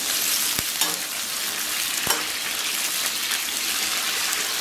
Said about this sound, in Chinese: 油温一两成热，咱们把辣椒给它下里边